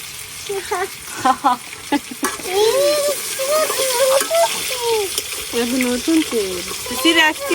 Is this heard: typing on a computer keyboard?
no